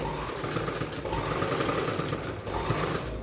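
A sewing machine runs steadily while stitching around a round neckline, a continuous close, loud mechanical whir and rattle with no pauses and no voices.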